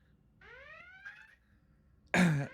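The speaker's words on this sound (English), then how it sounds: "as the alarm's going off, you can start hearing rumbles coming from the ship" A spaceship alarm signals low power: a rising synthetic tone sounds twice over a low hum, then a sudden loud burst hits near the end.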